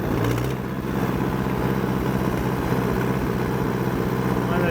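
An old Allis-Chalmers D14 tractor pulling a brush hog through high weeds and multiflora rose, its engine a steady, loud, close rumble throughout, with a slight dip near the start.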